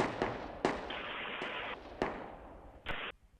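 Gunfire in the tactical shooter game Project Reality, a series of sharp cracking shots at irregular intervals with ringing tails, fairly quiet and distant.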